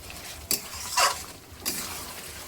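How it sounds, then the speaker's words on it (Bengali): Mutton being stirred and sautéed in a pan over lowered gas heat: a few scattered scrapes and clinks of a spoon against the pan at moderate volume, with a faint background hiss and no talking. "এখন গ্যাসটা একটু কমিয়ে দেব কমিয়ে দিয়ে ভালো করে কষাবো"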